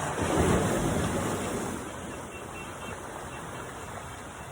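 Steady roar of ocean surf with a swell of crashing water early on, mixed with wind buffeting the microphone, no voices.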